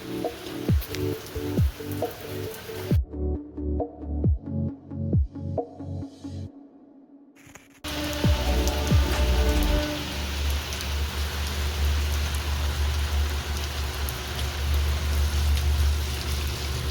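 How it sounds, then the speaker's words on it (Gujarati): Rain falls outdoors beside a market shop: first a run of sharp, irregular drips and taps, a brief near-silent lull, then a dense, steady roar of heavy rain close by. "મસ્ત વરસાદ આવે છે"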